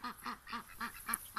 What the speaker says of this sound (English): They're called a Cayuga duck, originally bred down in the Finger Lakes region of New York.